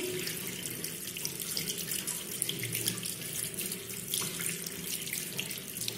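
Hands being washed under a running tap, a steady close splash of water into a sink with light rubbing, continuous and moderately quiet with no talk.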